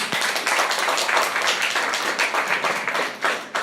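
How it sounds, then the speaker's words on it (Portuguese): A church congregation applauds for Jesus during worship, a dense, steady wash of many hands clapping together that fills the room loudly and evenly, with no voices standing out. "Você pode dar uma salva de palmas para Jesus?"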